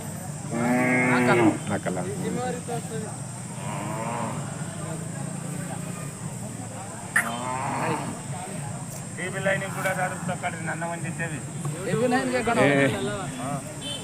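Hallikar cattle lowing at a village cattle fair at Chelur, Gubbi, Tumakuru: several loud, drawn-out moos, some near and some farther off, over crowd chatter and voices talking.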